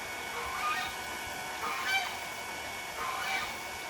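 Geese honk at feeding time outdoors on a hot day, with three loud bursts of honking spaced about a second apart over a steady hiss of background noise.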